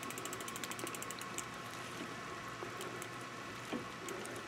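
Bicycle derailleur inner limit screw being turned in a bike restoration, with faint, quick ratcheting clicks and small mechanical ticks over a quiet steady hum, close by and without talk.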